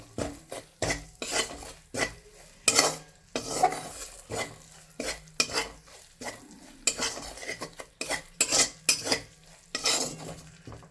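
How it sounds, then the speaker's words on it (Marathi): Bhogi vegetables with salt are stir-fried in a pan, with irregular scraping and clinking of a spatula against metal and a faint sizzle in between strokes, close and fairly quiet with no talk. "छान असं एक भर मीठ आणखी परतून घ्यायचं"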